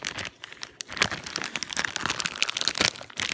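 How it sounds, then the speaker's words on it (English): A plastic bag crinkles and crackles loudly and steadily as a piece of cheese is tugged at and pulled on inside it, close to the microphone, with no talk. "Here comes Spiritual, tries to pull a piece of cheese out of a plastic bag and fails to do so."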